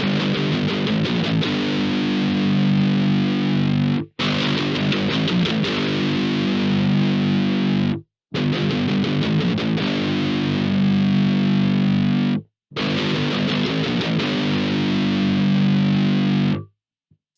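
Heavily distorted electric guitar chords through an Orange Dark Terror amp with a Joyo 10-band EQ pedal boost ring out in four long, loud passages separated by short silences, with a bright, buzzy tone.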